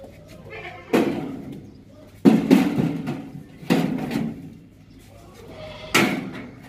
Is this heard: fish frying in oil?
no